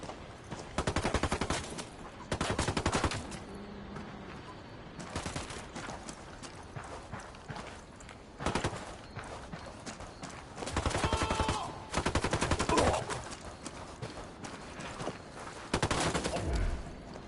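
Gunfire in the video game Ghost Recon Wildlands: repeated loud bursts of automatic and rapid rifle fire in clustered volleys with short gaps, close and sharp, with no talking.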